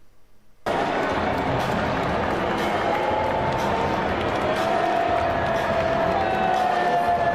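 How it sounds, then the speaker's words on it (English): A large stadium crowd at the U.S. Open tennis final reacts to Donald Trump with sustained booing mixed with some cheers, a loud, steady roar that begins abruptly after a brief quiet moment. "I think I'm hearing more boos than cheers"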